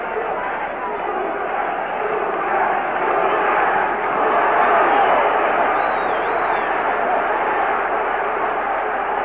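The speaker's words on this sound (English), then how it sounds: "The crowd urging him on to the knockout" A boxing arena crowd roars steadily and loudly throughout, a dense sustained wall of cheering and shouting as spectators urge a fighter toward a knockout in the Duran versus Palomino bout.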